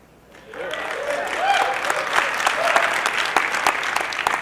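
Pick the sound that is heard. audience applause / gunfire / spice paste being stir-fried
audience applause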